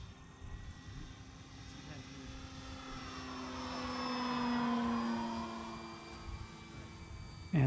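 Arrows Husky RC plane, roughly two-metre wingspan, on its maiden flight with a new motor: a steady electric motor drone that swells as the plane passes closer mid-clip, then fades back into the distance.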